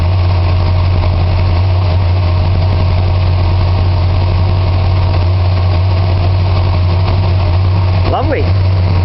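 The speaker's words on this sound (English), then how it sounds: "Lovely running engine." A 1978 Chrysler New Yorker Brougham idles at a fast 1800 rpm on a snowy day just after a cold start, choke still on: a loud, steady low rumble and hum that runs unbroken from start to finish.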